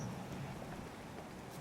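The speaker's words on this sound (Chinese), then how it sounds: "像这个城镇在下雨" Rain falls steadily over a town in the video game Fallout, a dense, even hiss of rainfall with a low rumbling undertone, continuous and moderately loud.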